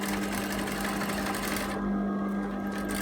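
A sewing machine runs steadily while stitching the side seam of a lined dress, giving a close, continuous whirring hum with a rapid mechanical chatter, and no talking.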